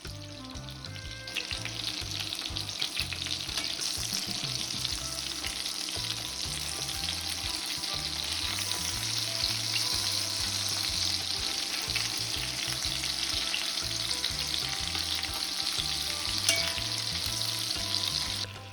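Meatballs sear in a hot pan, producing a loud, continuous crackling sizzle with a throbbing low rumble underneath, sustained for the whole stretch without any voices.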